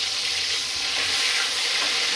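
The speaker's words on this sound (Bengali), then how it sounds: "4টে পটল আমি ভেজে নেব।" Sliced pointed gourd (potol) sizzles steadily in hot oil in a pan, a continuous bright frying hiss that stays fairly loud and even throughout, with no talking.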